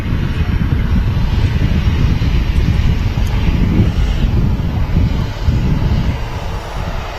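Football charter aircraft departing Manchester Airport: a loud, sustained low engine roar with wind noise on the microphone, continuous throughout.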